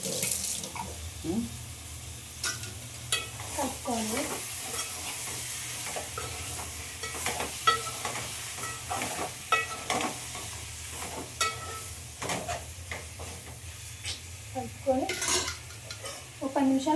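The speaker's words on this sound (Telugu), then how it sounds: "చాలా చికెన్ వేసుకోవాలి. కలుపుకోవాలి." Chicken pieces stirred and fried in a pot for a home-cooked curry, with steady sizzling under repeated scraping and clanking strokes of a spoon, plus a little splashing, close and alone.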